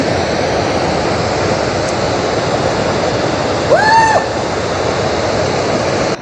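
Loud, steady rush of river water at Sariya waterfalls, a continuous broad roar that fills the whole stretch, with a short rising whistle-like chirp briefly riding over it near the middle.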